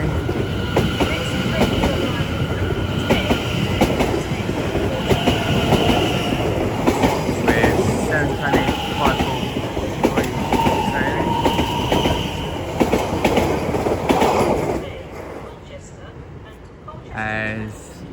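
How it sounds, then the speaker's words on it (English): A Greater Anglia train rumbles through Stratford station with a loud, continuous roar, wheels clicking over rail joints and squealing faintly at times. The train fades out near the end, followed by a short electronic announcement tone, with talk heard during the pass. "Now the plan is the 10:40 Greater Anglia service to Southend Victoria from London Liverpool Street"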